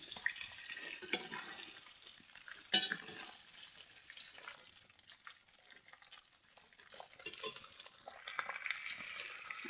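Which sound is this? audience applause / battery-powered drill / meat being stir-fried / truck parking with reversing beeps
meat being stir-fried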